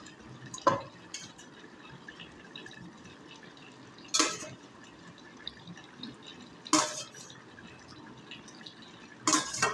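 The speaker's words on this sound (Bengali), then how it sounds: "দিয়ে দিলাম জল ইনশাল্লাহ।" Water being added to a cooking pot with liver pieces inside, heard as a few separate sharp splashes and drips spaced several seconds apart against a quiet kitchen background.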